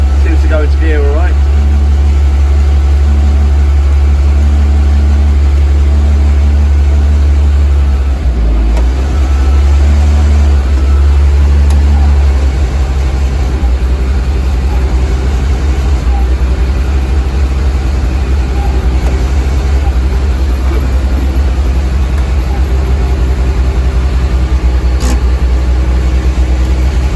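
A BMW E30 rally car engine runs steadily nearby with a deep, continuous idle, dipping briefly as it is put into gear with the handbrake on, then settling back into its low hum.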